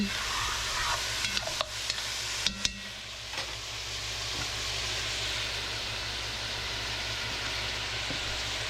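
Browned chicken pieces sizzling in a pan, a steady hissing fry with a few clattering knocks and scrapes of stirring early on, then an even sizzle alone.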